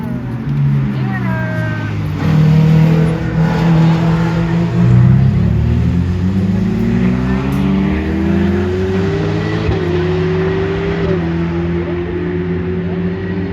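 A Porsche being driven: a loud, close engine drone whose pitch climbs steadily as the car accelerates, with breaks in the rise where it shifts gear.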